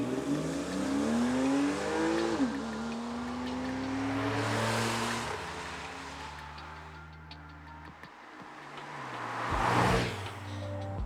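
A sports car engine revs hard toward 7,000 RPM inside a tunnel. Its pitch climbs, drops back and surges again in loud, echoing bursts, with no talking.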